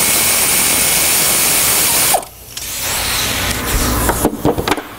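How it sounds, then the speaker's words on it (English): A power tool whirs continuously while loosening the 8mm collar bolt on a Trick Flow LS cylinder head on a 2013 Camaro, then stops, followed by quieter mechanical clicks and rattles. "first we want to start by taking loose the 8mm collar bolt"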